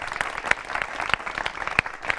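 Small audience clapping for a band, a moderately loud spatter of claps with a few sharp individual hits standing out, steady for a couple of seconds with no voices over it.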